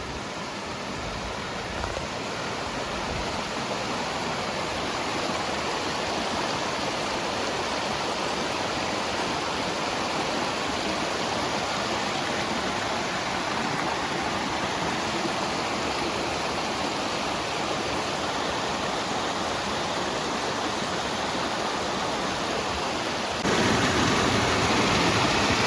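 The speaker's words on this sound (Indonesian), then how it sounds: "Di bagian ini sebentar-sebentar kita harus menyeberangi sungai" A mountain river flowing along a hiking trail near Malang: steady, full rushing water, close and continuous with no voices.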